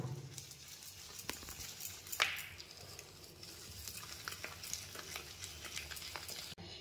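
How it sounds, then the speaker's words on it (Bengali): Medu vada lentil batter mixed with rice flour beaten by hand in a bowl, soft, quiet, continuous squelching and slapping strokes with a few sharper knocks, close-up without speech. "দিয়ে ভালো করে একইভাবে এক সাইডে করেই ফাটাবো।"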